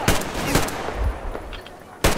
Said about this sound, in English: I think he's firing a shotgun, it looks like.